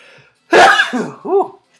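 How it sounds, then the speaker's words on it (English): A loud, close sneeze bursts straight into a microphone, followed by a second shorter explosive burst, with near silence before and after. "Apologize for sneezing all up in your ears in case you were listening on headphones."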